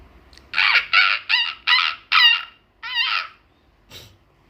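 A girl imitates a monkey's call with her voice, giving a run of six loud, bouncing whooping cries in quick succession, followed by a fainter short sound.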